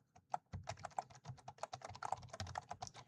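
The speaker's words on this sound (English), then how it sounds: "I really cannot talk and type at the same time." Fast, uneven typing on a computer keyboard, crisp close key clicks in quick runs with tiny pauses, heard alone with no voices.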